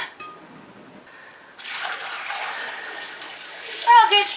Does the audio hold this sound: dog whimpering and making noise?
no